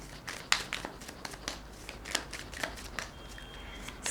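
A tarot card deck being shuffled nearby, with a rapid run of crisp riffling flicks and soft papery slaps in uneven bursts, alone without talk.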